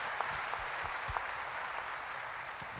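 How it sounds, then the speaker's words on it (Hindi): Audience applause in a hall for the Forever Living Products management, a steady wash of many hands clapping at moderate level with no talk, a few sharper claps standing out near the start. "एक बार जोरदार तालियां उस मैनेजमेंट के लिए होनी चाहिए।"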